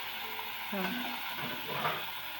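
Tomatoes tipped into a frying pan and stirred in a home village kitchen, giving a soft sizzle with scraping stirs that swell twice, close by and moderately quiet.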